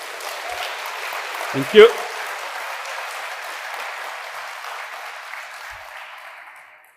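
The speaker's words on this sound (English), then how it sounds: "can you please help me, like, giving them a round of applause?" Applause from a conference audience, a steady wash of clapping across the room that fades away toward the end, with a brief spoken phrase heard near the start.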